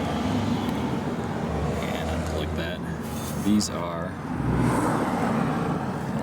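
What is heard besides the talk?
road traffic noise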